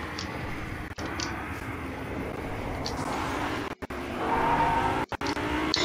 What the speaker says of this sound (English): Yeah, you were able to drive cars.